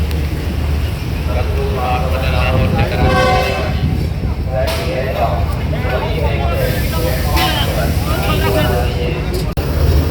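The Shalimar Express pulls into a crowded platform at a Karachi station, its steady rumble and squealing wheels or brakes running loud and close beneath continuous crowd chatter and nearby voices.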